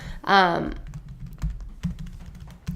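Keys on a computer keyboard clatter in a quick, light run close by, following a brief spoken word at the start.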